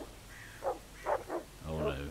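Dogs barking in the video game Partisans 1941: a few short yelping barks spaced out at moderate distance, followed by a longer whining bark, over a low ambient background.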